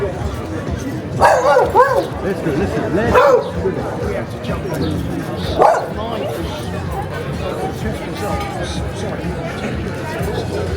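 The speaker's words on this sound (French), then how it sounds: "Oh, il y a un petit chien." Small dog barking in a street by a gallery in Honfleur, a few separate yips and barks at moderate distance amid people talking and background chatter.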